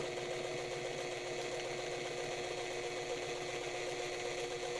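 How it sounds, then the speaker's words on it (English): Necchi BF sewing machine stitching vinyl, a steady close whirring hum with fast, even mechanical ticking and no pauses. "Now I can sew more quickly"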